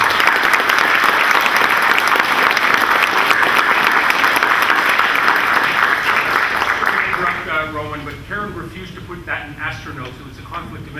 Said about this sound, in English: So I think a round of applause in order